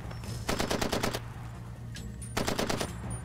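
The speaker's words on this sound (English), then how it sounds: "Oh fuck, he's shooting at me." Enemy automatic gunfire in Far Cry 2 comes in two rapid bursts of sharp, loud shots, one about a second long and a second shorter volley after a pause, over a low steady game hum.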